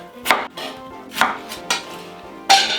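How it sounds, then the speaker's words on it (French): A knife cuts potatoes in half on a board while the garnish for a blanquette de veau is prepared: four crisp, separate chopping strikes, spaced irregularly, with short pauses between them and no talk. "Pommes de terre ici. Coupe 2 et 2."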